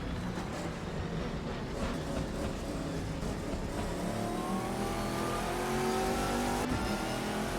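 GTR race cars lapping Mugello in a racing simulator game, engines droning and revving steadily with rising pitch sweeps as cars accelerate, continuous and fairly loud with no talk.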